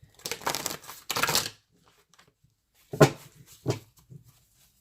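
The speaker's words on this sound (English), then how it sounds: "These cards are huge, so you know I shuffle these differently, guys, because they're so big." Oversized tarot cards are shuffled in two quick papery riffling bursts, then two shorter sharper slaps of the deck, close up and loud with silence in between.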